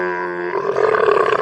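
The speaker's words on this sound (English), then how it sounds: "Camel," A camel vocalizes close and loud: a tonal, groaning call that turns into a rough, gurgling roar, heard alone and brief.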